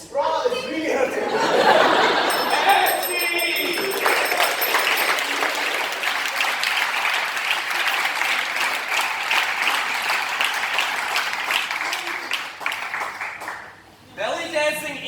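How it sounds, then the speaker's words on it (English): An audience applauds after a belly dance performance in a dungeon venue, sustained loud clapping with chuckles and chatter that tapers off near the end. "Give another round of applause"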